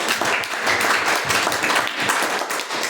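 A congregation at an ordination church service applauds, dense steady clapping filling the space at close range, with a few voices faintly mixed in.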